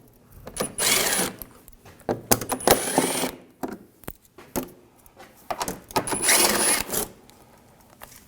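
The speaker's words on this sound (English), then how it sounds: "Using a 8mm socket, take these screws out." Metallic rattling and clicking as shield screws under a 2007-2013 BMW 328i 3.0L L6 are removed with an 8mm socket, coming in irregular bursts of ratchet clicks and jangling hardware, close by.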